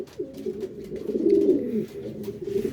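Racing pigeon hens at a loft in Cavite, just back from a hard race, cooing low and steadily at close range, with a rising, swelling coo in the middle and light background noise.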